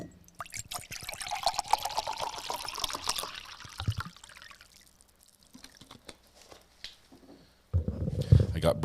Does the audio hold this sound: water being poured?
yes